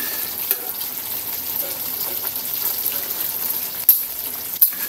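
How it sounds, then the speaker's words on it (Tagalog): Chicken in tomato sauce sautéing in a pan gives a steady, fairly quiet sizzle and bubbling hiss throughout, with two sharp clicks or taps near the end. "Ginigisa lang, naglalagay lang tayo ng mga dagdag na ingredients."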